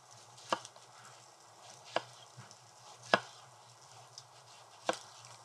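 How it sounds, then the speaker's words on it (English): A knife slices through heirloom tomatoes on a cutting board during outdoor cooking, giving four sharp, separate knocks spaced about a second apart, close and fairly quiet, over a low steady background hum. "So I'm going to do a couple of slices of tomato."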